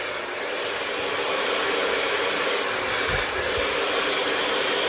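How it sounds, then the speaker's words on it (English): A hair dryer blows steadily and loudly throughout, a constant rushing whir with a couple of faint low bumps near the end. "bringing the hairdryer over the top of the head, and then scooping the hairdryer underneath."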